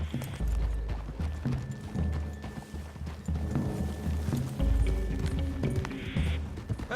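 Steady clip-clop of horse hooves trotting along at a close distance in the video game Red Dead Redemption 2, accompanied by soft background music and ambience.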